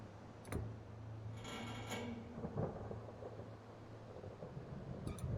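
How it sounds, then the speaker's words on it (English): Thunder in the video game Don't Escape: 4 Days to Survive rolls low and distant beneath rain, with a sustained hum and a few brief ticking clicks scattered through it. "It was thunder. It heard like thundering noises."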